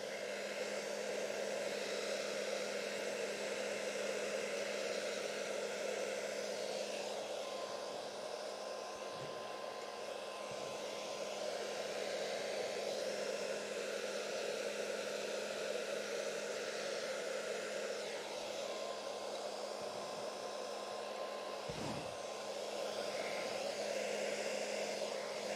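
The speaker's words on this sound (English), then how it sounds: "I'm left-handed, so it's really difficult with a blow dryer." A blow dryer drying a painting roars in a constant, even, close whoosh for the whole stretch, with a couple of brief faint knocks underneath and no talking.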